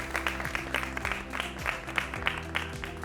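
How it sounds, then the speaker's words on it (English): A crowd applauds the winners at the Samsung Solve for Tomorrow 2024 event, a brisk, sustained clatter of clapping over steady background music with a low repeating tonal line. "Big round of applause for them too."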